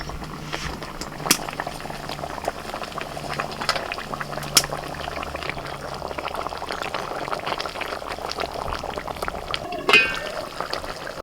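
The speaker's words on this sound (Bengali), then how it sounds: "মশলাটা ফুটতে শুরু করেছে" Steady bubbling and gurgling of a thick spice paste simmering in a pan for a silver carp curry, close by, with a few faint clinks.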